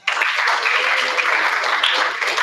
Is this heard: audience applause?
yes